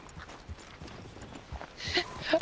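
Horse hooves clip-clop in Red Dead Redemption 2 on a ranch, a steady light rhythm of soft thuds under ongoing talk, with brighter clatter rising near the end.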